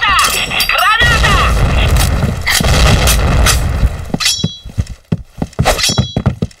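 Loud explosion in a video game, a heavy blast with a sustained roar followed by sharp impacts and scattered bangs, with voices heard alongside.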